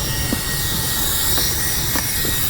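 A Ryobi vacuum cleaner with a brush attachment runs with a loud, steady whooshing roar and a thin motor whine, unbroken for the whole stretch.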